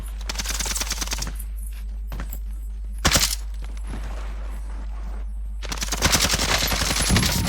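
Automatic gunfire in Call of Duty Warzone, with dense rapid bursts at the start, a sharp isolated volley near the middle and another loud sustained burst at the end, separated by quieter stretches.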